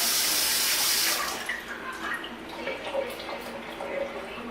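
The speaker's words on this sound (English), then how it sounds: "Give me a second to rinse my finger." Water runs from a kitchen tap to rinse a finger while soul food yams are prepared: a loud splashing stream for about a second, then quieter dripping and trickling close by.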